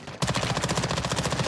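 Automatic gunfire in the video game Warzone 2.0 erupts suddenly and rattles on in a fast, steady stream of shots for over a second, loud and close with no talking.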